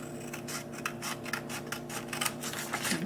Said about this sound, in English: and then take your scissors